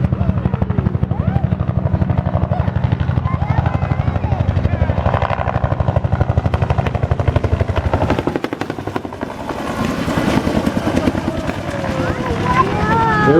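A Bell UH-1 Huey helicopter passes near a landing zone during a simulated Vietnam War battle, its loud, steady rotor chop thudding in a fast rhythm. Voices and faint background noise sit under the beat, which swells and shifts as the aircraft flies by.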